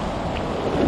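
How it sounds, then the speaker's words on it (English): Big ocean surf on a Long Island beach during surf fishing, with an 8-foot swell and light north wind; a brief burst of continuous wave wash and wind rumble on the microphone, loud and close, with no talk. "Wow, these are big waves."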